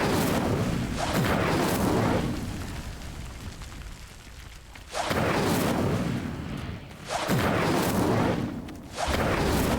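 In the wizarding game Hogwarts Legacy, an Incendio fire spell ignites pyres, producing loud whooshing, roaring bursts of flame that swell and fade several times in a row, with no talking.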